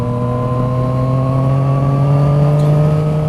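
A Yamaha MT-09 motorcycle engine with an Arrow exhaust runs steadily and loudly up close, its deep droning note climbing slowly in pitch as it revs gently, with no one talking.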